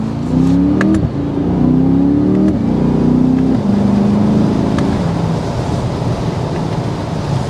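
A 2023 Chevrolet Corvette Stingray accelerates hard during a test drive. The engine note climbs through several gear changes, loud and close from inside the car, then settles into a steady cruising drone.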